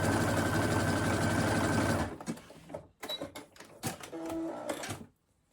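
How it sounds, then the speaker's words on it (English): A sewing machine zigzag stitching a denim scrap backed with jersey runs loud and steady for about two seconds, then stops, followed by scattered handling clicks and rustles. "I'm just going to check I'm happy with it before I start sewing on my machine"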